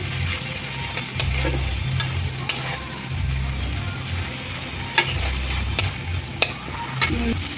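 Spice paste (masala) sautéing in a pan for an egg curry, a close sizzle with repeated scraping strokes of a spatula and sharp clicks against the metal.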